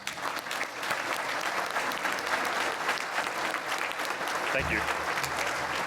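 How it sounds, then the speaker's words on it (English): A large gala audience at an awards ceremony claps steadily and loudly in a continuous wash of applause, with a voice briefly speaking near the end. "give them a round of applause"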